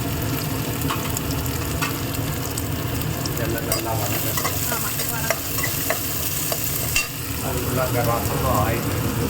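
Mustard seeds with shallots, green chilli and garlic sizzle in hot oil, a loud continuous frying hiss with light clinks of stirring and occasional pops throughout.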